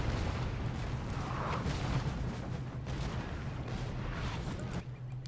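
Artillery guns firing across a Napoleonic battlefield in Napoleon Total War, a dense continuous rumble of distant booming cannon fire mixed with ambient battle noise, steady and fairly loud with no clearly separate shots.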